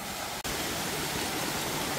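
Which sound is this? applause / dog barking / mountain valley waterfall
mountain valley waterfall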